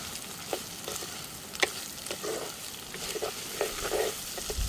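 Onions and garlic fry in a pan for fenugreek kuzhambu, a soft, fairly quiet sizzle with occasional clicks of stirring, no one speaking.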